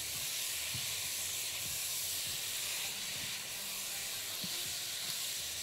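Chicken and garlic frying together in a pan, a continuous close sizzle and hiss broken by a few low knocks of stirring, with no talk.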